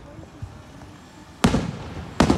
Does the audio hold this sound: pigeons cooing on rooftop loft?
no